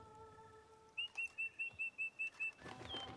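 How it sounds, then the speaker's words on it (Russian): A bird in The Witcher 3: Blood and Wine chirps a rapid run of about eight short, even whistled notes, clear and fairly close, over soft ambient game background. "Птичка. Бедная птичка."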